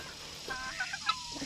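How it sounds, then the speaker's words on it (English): Chickens feeding on scraps of old bread in a yard, giving a few soft, brief clucks and calls over a quiet, hissy background. "Time to feed the chickens, folks."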